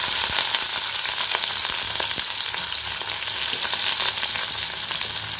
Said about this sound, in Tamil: இப்போ இதில் வெங்காயத்தை சேர்த்துக்கலாம்.